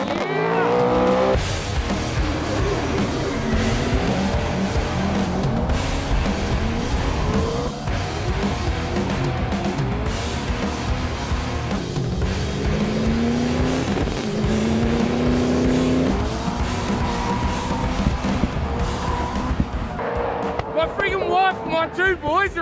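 Hot Wheels Stunt Team cars drifting around Queensland Raceway, with loud engines revving and rising in pitch and tyres squealing almost without pause across the whole stretch, a voice talking over the noise.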